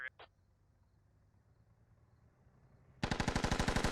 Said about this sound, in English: He is shooting at Atomic